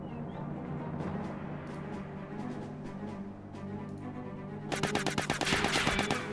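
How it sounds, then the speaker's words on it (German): Gunfire from the turn-based tactics game Silent Storm: low rumbling ambience, then a rapid burst of automatic shots cracks out near and loud near the end. "Ich habe leider zu früh geschossen"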